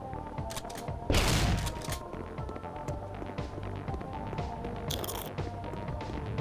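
Video game gunfire crackles in dense rapid bursts with a louder volley partway through, over a busy game soundscape and no talking.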